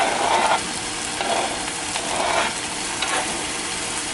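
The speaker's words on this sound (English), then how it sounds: "I think we can go ahead and add the sausage now." Kielbasa sausage frying in a pan for a home dinner with perogies, a close, steady sizzle with a few scraping stirs throughout.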